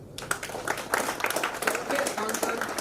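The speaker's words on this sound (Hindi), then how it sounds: "आप सब तालियों से उनका सम्मान करेंगे।" A crowd at a company anniversary event applauds the Jharkhand region, with a sustained wash of many hands clapping and some voices mixed in.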